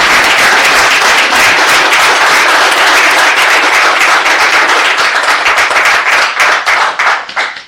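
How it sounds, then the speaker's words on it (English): Loud, dense audience applause for the winners of the 2023 Hockomock Film Festival, many hands clapping close and continuously, then thinning into scattered separate claps near the end. "Let's give them all a big round of applause."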